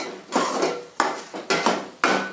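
A spoon stirs chopped carrots in a pan, making five or six sharp metallic scrapes and clanks in an irregular rhythm, close and fairly loud, with no voice over them.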